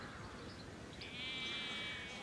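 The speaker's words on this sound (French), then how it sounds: "Cette vaste zone d'herbe où nous nous trouvons actuellement est tondue par les moutons." A sheep grazing a large grassy lawn bleats once, a wavering drawn-out call from some distance over a constant outdoor background.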